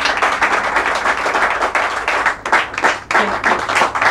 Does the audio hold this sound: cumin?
no